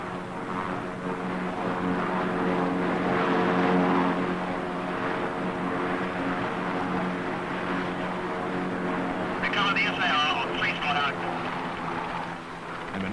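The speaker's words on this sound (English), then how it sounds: "And last, the Gannet, which has more fuel to loiter with than the heavies. A nice, gentlemanly 90-knot approach." A Fairey Gannet propeller aircraft makes a slow approach and lands aboard the carrier HMS Ark Royal, its engine a steady droning hum running throughout, with a brief higher whine near the end and a narrator talking over it.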